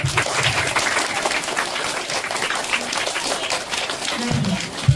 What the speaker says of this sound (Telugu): Have a big applause. Clap చేయండి.